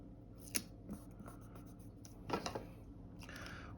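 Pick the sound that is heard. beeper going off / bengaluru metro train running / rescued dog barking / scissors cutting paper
scissors cutting paper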